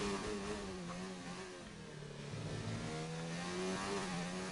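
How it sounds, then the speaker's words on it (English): Formula racing cars idling and revving together on the grid in a Formula racing video game, a steady layered engine drone with rising and falling pitch bands, fairly loud and continuous with no talk. "all the cars are coming out onto the grid right now"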